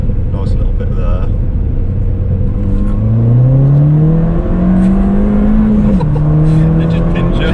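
A Ford Fiesta ST tuned to Stage 2 at 250 bhp accelerates hard from low revs with traction control off, its engine note climbing steadily through the rev range, loud and close, while someone talks over it.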